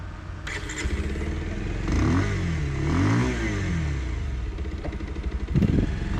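A 2026 Bajaj Pulsar 150 STD single-seat motorcycle on the move, its engine humming steadily with a smooth rise and fall in revs midway and a thump near the end, set against rushing road and wind noise.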